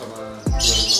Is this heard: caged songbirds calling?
yes